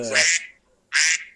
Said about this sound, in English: We gotta duck quacking.